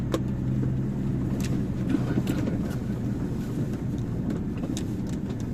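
MAN truck with a jammed wheel revs its engine on a factory lot, straining to pull out: a steady, loud low rumble that holds throughout, with some wind buffeting the microphone.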